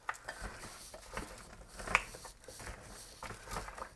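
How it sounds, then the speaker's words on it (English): A spoon scraping and clinking through food in a crockpot, soft repeated stirring strokes with one brighter metallic tap, close and fairly quiet. "I'm going to stir this up a bit"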